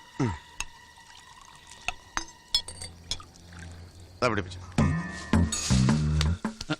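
Cold water pours and splashes with glassy clinks, a steady gurgling stream building toward the end, close by with voices and movement around it.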